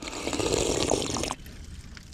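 Water being poured or run into a container at the bottom of the Mission Peak trail in Fremont, California, after dark: a steady close trickling splash for over a second, then it stops abruptly, leaving quiet outdoor ambience.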